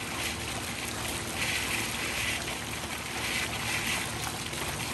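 An old garden water fountain splashes steadily and loudly close by, a continuous wash of falling water with no voices.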